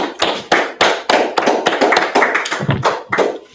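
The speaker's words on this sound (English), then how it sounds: "let's clap it up now" A small audience bursts into sharp, uneven clapping at the Israelite School of Universal Practical Knowledge, loud and close, with hand claps coming in quick clustered bursts that build and then trail off.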